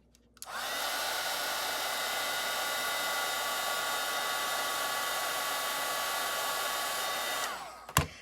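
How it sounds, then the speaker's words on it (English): Heat tool switched on and blowing hot air onto a wax stick to melt it, a steady loud whooshing hum lasting about seven seconds before cutting off with a click and a brief clatter. "I took my wax stick and I heated it with my heat tool"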